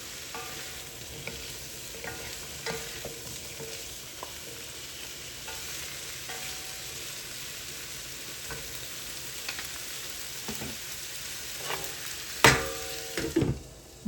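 Squash, shrimp and shiitake sizzling in a pan on strong fire, a steady close frying hiss with light stirring scrapes and a few louder utensil clinks toward the end, no talking.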